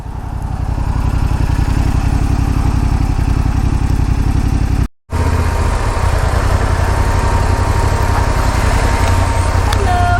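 A Yamaha Ténéré 700 (T7) motorcycle engine idles steadily up close on a sunny morning near Crater Lake, with a brief cutout midway and a constant low rumble throughout.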